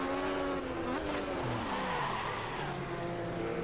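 Race cars in the game Automobilista 2 roar at steady high revs with changing engine pitch and some tire scrub on cold tires, loud and continuous throughout.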